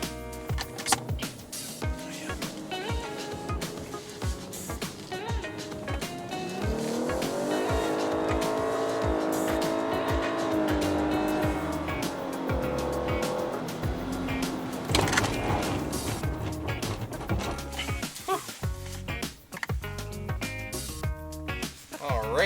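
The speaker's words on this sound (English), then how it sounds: "we're hitting start for run number 1 on the 60 to 0 braking." A Lexus flagship hybrid runs a hard 60 to 0 mph braking test, with a steady rising road and tire roar as the car builds speed, then slowing and settling toward a stop, heard from inside the cabin with no talk.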